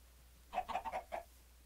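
A Minecraft chicken clucks in a quick run of five short, bright squawks, fairly close and clear over a quiet background.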